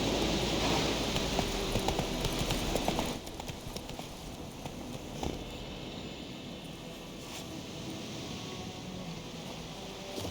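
Roach, the horse from the video game The Witcher 3, trots with fast, busy hoofbeats for about three seconds before slowing to a few sparse clops under a soft steady background hiss.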